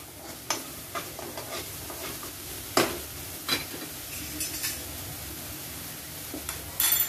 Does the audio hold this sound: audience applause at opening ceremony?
no